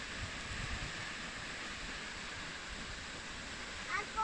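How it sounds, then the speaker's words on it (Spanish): Water from an irrigation canal discharging and falling into the Tujaca river, a steady hiss of splashing water heard at a moderate distance, low and unbroken, with a brief louder bump at the end. "Esa es la descarga de agua que viene del canal de riego y cae al río Tujaca"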